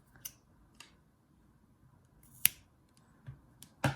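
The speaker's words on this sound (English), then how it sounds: "Then you can cut the rest of the yarn off." Scissors snipping off the end of crochet yarn while a crochet bear is assembled, producing a few sharp, close clicks separated by quiet pauses, with no talking.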